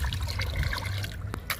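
Water being stirred and mixed with a liquid plant tonic, a steady close trickling and sloshing with a brief splash near the end, no talk.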